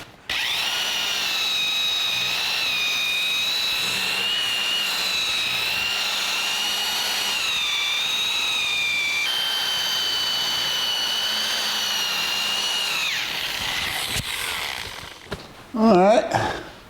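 A buffer runs steadily for about 14 seconds, polishing paint on the tub of a 1982 Jeep CJ7 at slow speed, a loud continuous whine with a slight wavering pitch, then cuts off and spins down with a brief clatter.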